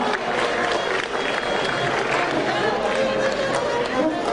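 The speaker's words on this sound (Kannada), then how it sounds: "ಎಲ್ಲ ಜಾನಪದ ಕಲಾವಿದರಿಗೂ ಮತ್ತೊಮ್ಮೆ ಬರಲಿ ಚಪ್ಪಾಳೆಯ ಪ್ರೋತ್ಸಾಹ." An audience at a state awards ceremony for folk artists keeps up dense, continuous applause with crowd murmur, loud and even throughout with no break.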